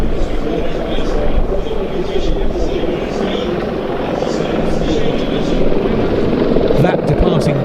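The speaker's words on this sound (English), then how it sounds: "Another helicopter now running a bit closer to us is the Bell 412 of the Czech Police." A Czech Police Bell 412 helicopter flies fairly close at the NATO Days and Czech Air Force Days show, its loud rotor thump and engine whine pulsing steadily while someone talks over it.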